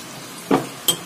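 Crushed ginger, garlic and green chilli fry in a pan with cumin powder, salt and turmeric, giving three short scraping, sizzling stirs with a light metallic clink from the utensil. Each stir stands alone and close.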